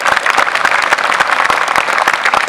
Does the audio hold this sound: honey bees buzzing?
no